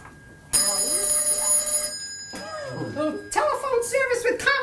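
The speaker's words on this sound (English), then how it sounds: "Should I answer that phone?" A telephone rings with a steady electronic bell tone, loud and close, and after a pause people talk over and around it.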